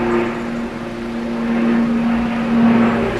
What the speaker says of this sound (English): we've got another plane there as well.